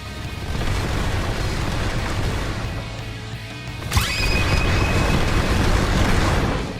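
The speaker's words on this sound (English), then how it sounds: "Dash in with the crazy barrage and it ends with the fiery shockwave." Video game tiger character's dash barrage ending in a fiery shockwave, a loud dense rumbling roar of rapid hits followed by a sharp boom burst and a sustained blast of crackling noise, no talking.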